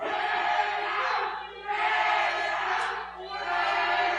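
A wrestling crowd at a Firebrand Championship match cheers for Steve Pena in swelling waves, a steady roar rising and falling across the arena.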